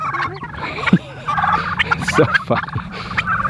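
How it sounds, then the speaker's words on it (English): Turkey toms gobble repeatedly on an open pasture, several overlapping rattling calls near and far, with a brief remark spoken over them. "This is how we love raising turkeys on pasture."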